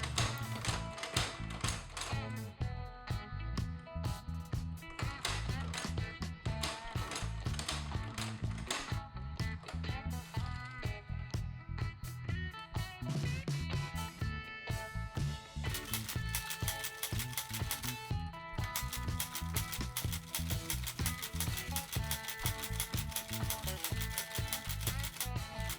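A tip-embossed leather stitching machine sews a leather wallet card holder and its card slots with size 207 thread, giving a steady rapid mechanical clatter of needle strokes that runs continuously and fairly loud throughout.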